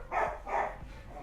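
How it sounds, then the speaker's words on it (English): A small household dog barks twice in quick succession at moderate distance, sharp yappy bursts indoors over a low background rumble. "sister's dog is barking in the background."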